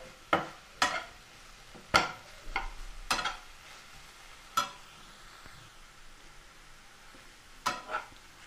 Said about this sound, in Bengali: এভাবে আমরা ভালো করে মাখিয়ে দিচ্ছি দেখুন